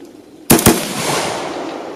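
An AR-15 rifle fitted with an American Trigger Corp AR Gold trigger fires two quick close, loud shots outdoors, followed by a lingering echo.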